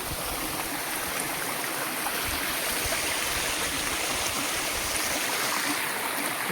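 Steady rushing of water pouring and splashing continuously at Byrappa Falls, Kuruvinakoppa, a full broadband roar with no breaks, close by.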